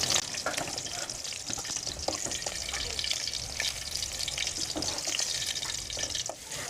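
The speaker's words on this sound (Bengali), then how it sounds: "আমার ঢ্যাঁড়সগুলো ভাজা হয়ে গেছে, আর ঢ্যাঁড়সগুলো তুলে নিচ্ছি" Okra fries in a pan with a continuous crackling sizzle, close and fairly quiet, with occasional scraping and clinks from stirring or lifting the pieces out.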